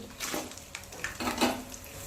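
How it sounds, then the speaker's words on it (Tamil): Dried red chillies, garlic cloves and ginger frying in a pan for murungai keerai thuvaiyal, a faint close sizzle with light scraping and stirring clinks in a few short bursts. "இப்போ நம்ம இதில் வந்து காஞ்ச மிளகாய் போட்டுக்கலாங்க"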